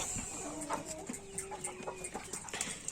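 Hens and a rooster cluck in a backyard coop, a scatter of close short clucks and calls over a dense, steady background of other birds.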